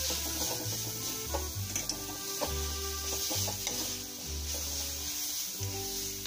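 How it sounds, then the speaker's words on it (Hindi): Chopped green onions stirred into a frying masala for momos, a low continuous sizzle with repeated rhythmic scraping of a spoon against the pan, close and moderately quiet. "अब इसमें हम ऑलरेडी कटी हुई हरी प्याज को मिलाएंगे और इसे भी एक बार अच्छे से हम मिक्स करेंगे।"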